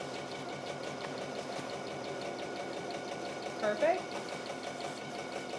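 A sewing machine quilting fabric with walking foot and free motion stitching, a steady close mechanical whir running throughout, with a brief spoken word over it.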